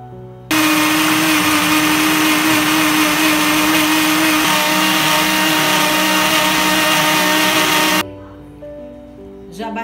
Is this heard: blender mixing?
yes